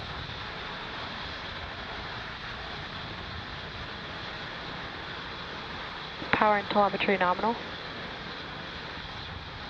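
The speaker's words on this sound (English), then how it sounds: "Falcon 9 has successfully lifted off from Space Launch Complex 40" Continuous broad roar of a SpaceX Falcon 9 rocket climbing after liftoff from Space Launch Complex 40 on a Starlink mission, heard as distant rumbling noise while a radio voice briefly speaks over it.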